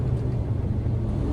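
Trucks queue at the Port of Long Beach, heard as a steady, close, low engine rumble with no breaks.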